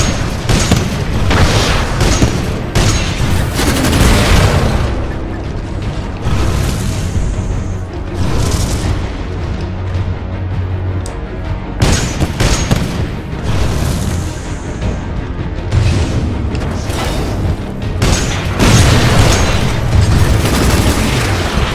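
Explosions during the Kane boss fight in Titanfall 2, a dense, loud barrage of booming blasts and bursts that repeats throughout, with heavy rumbling between hits and no talking.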